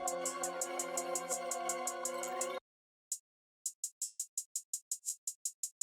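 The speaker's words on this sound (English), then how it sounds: "I added a hi-hat, and the hi-hat sounds like this" A dense musical passage from a dark, spacey trap beat cuts out, then a crisp hi-hat ticks in a steady, simple pattern of short bright hits, played alone.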